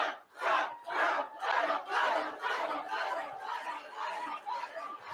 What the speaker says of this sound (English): That's a nice crowd.